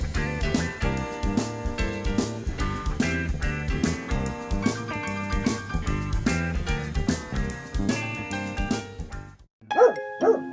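Several dogs bark and yip in quick, overlapping bursts over a dense musical bed, close and loud, before a brief pause and a final short burst of barking.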